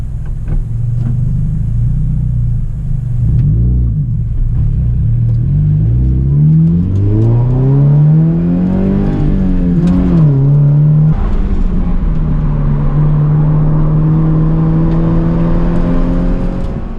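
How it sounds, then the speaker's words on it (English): A loud Subaru BRZ engine drones and revs on a track lap, pitch climbing through gears, dropping on shifts, then settling into a steady high hum, close and alone. "I guess if you say so, I will drive your BRZ"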